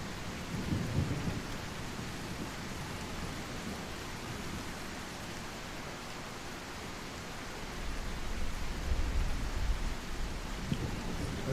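Video game rain in The Isle hisses steadily throughout with low rumbles of thunder rolling in the background, no voices.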